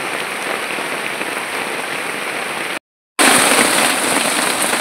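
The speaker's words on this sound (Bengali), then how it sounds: "খুব জোরে বৃষ্টি চলে এসছে।" Heavy rain pours down steadily in a dense, loud hiss, broken by a brief total dropout before resuming even stronger.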